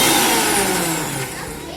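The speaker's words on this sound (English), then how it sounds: "Now blend it." A kitchen blender whirs steadily, blending lemonade ingredients with watermelon juice, a loud continuous motor drone that eases slightly toward the end.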